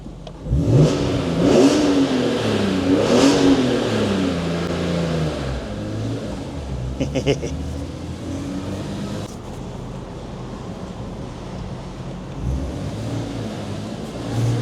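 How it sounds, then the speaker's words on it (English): A BMW E46 M3 engine revs inside a multi-story car park, close and loud. A couple of rising throttle sweeps lead into a steady rumble that echoes off the concrete walls, with no one speaking. "Ooh, multi-story car park rev"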